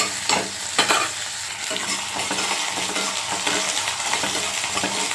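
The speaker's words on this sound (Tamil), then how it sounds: "வெங்காயம் நல்லா பச்சை வாடை போகிற வரைக்கும் நல்லா வதக்கிடுவோம்." Onions sautéing in a pan for fish curry, stirred with repeated scraping strokes and metal clinks over a continuous hissing sizzle, close and fairly loud, with no talking.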